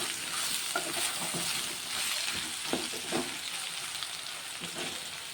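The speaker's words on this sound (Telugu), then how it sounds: "ఈ బీరకాయలు కూడా కొంచెం నూనెలో మంచిగా మగ్గిపోవాలి" Ridge gourd pieces frying in oil in a pan, a continuous close sizzle with scattered soft scrapes of stirring throughout, no talking.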